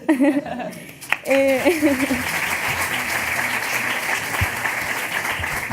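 Audience applause at a postgraduate graduation ceremony for EDEM's marketing master's programme, starting after a short burst of speech and whistling-like tones, then a steady, dense roar of clapping that fills the hall.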